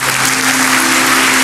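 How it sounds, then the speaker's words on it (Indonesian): Church congregation applauding during a sermon, a dense, steady roar of many hands clapping that fills the space loudly and continuously, with no voices over it. "Kasih tepuk tangan untuk Tuhan"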